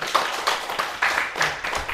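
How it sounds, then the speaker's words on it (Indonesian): A classroom claps for a group, a modest round of uneven hand claps at moderate volume with faint voices in the background. "tepuk tangan dulu untuk kelompok"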